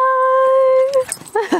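A dog gives a long, steady whine or howl with clear harmonics lasting about a second outdoors at dusk, then a voice speaks close by.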